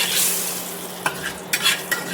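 Hot oil sizzling in a frying pan with salt added ahead of frying fish and onions, a steady close hiss broken by a few sharp crackles and spatters, no voices.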